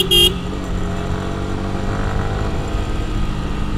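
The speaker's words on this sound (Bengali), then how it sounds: "আমার পিছনে বাইকার ভাই হর্ন দিচ্ছে" A motorcycle horn sounds in a short loud blast from behind a moving motorbike on a road near Raniarhat Bazar between Rangamati and Chittagong, followed by steady engine and road rumble.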